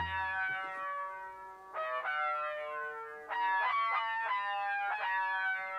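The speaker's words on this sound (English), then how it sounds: "Had this little lead sound here." A bright, bending synth lead plays a short melodic phrase in bursts, drenched in chorus, echo and distortion effects, with no voices, in a 90s and early-2000s R&B style.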